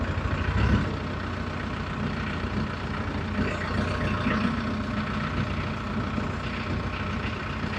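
A tractor engine idles at a wooded off-grid cabin building site, a steady, loud, low rumble that runs unbroken from start to finish with no other sound on top.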